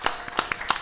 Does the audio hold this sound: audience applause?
yes